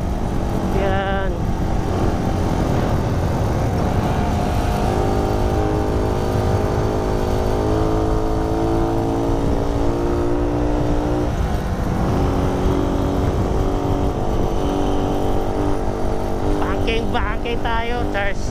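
Motorcycle engine droning steadily and loudly on a winding mountain road, with rising and falling pitch as it accelerates through curves, wind rush throughout and brief talk from riders over the engine.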